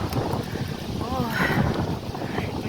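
Steady, heavy wind buffeting the microphone in a continuous low roar, with faint water sounds beneath.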